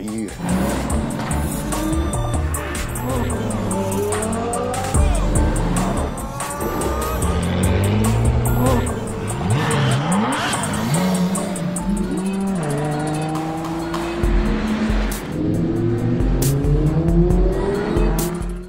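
Race cars in a street-racing film chase rev hard and accelerate, engines rising in pitch over and over with tire squeal and skids, loud and continuous throughout with some voices mixed in.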